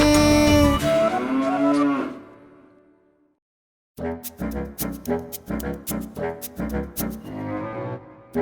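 A cow in a Tamil children's rhyme gives one long loud moo, then after a short silence a bouncy musical backing begins.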